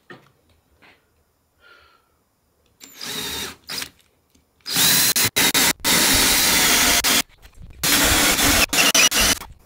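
A jigsaw cuts through the wall of a RAM 5500 box truck, loud harsh buzzing in several long bursts separated by brief pauses, after quieter knocks and short starts at the beginning.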